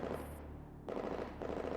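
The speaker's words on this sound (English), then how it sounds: "The sound of intense gunfire comes from afar." Intense machine-gun fire in the Girls Frontline video game, rapid continuous bursts rattling from a distance at a fairly low level, with a short break partway through.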